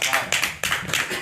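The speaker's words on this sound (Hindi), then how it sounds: "तालियां जोरदार" Audience applause at a Saraiki poetry gathering, a short burst of brisk clapping over crowd voices, loud and close with uneven rhythm.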